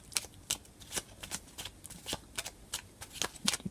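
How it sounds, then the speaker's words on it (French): Oracle cards are shuffled by hand, a quiet run of crisp riffling bursts repeating about every half second, close and alone with no talking. "Alors, on va tirer une dernière carte."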